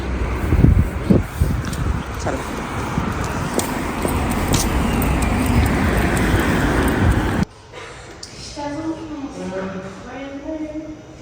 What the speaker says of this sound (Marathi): यावेळेस या रोडला खूप ट्रॅफिक असते